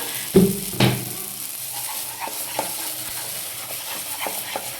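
Bean mash (shim bharta) with sugar and salt is stirred in a frying pan and pulled off its sides. Two sharper scrapes come early, then softer, scattered scraping and tapping follows, close and fairly quiet.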